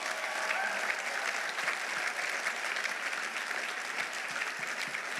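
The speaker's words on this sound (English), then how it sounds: "I want applause" Steady audience applause from a crowd at a motivational speech, dense and continuous at moderate level for the full stretch, with a faint murmur of voices underneath.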